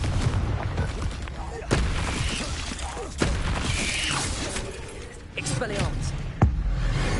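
A Confringo spell fires in Hogwarts Legacy, sending out sharp explosive blasts with loud cracks roughly every second or two over dense, continuous game rumble and effects.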